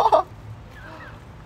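A pet duck out on a walk gives one short, close call at the start, and then only faint background sound follows.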